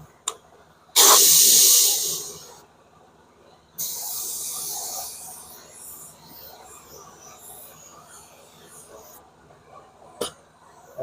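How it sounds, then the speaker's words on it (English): Bursts of spray hiss as clear coat is sprayed onto a repaired Tesla wheel, one loud blast followed by a longer softer spray pass, with quiet pauses between. "we're going to cover this with clear coat"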